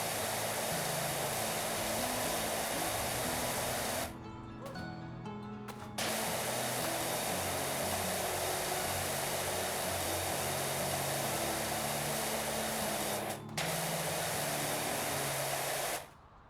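Pressure washer spraying through a big nozzle, a loud steady hiss of high-pressure water that cuts out a few times briefly and then resumes.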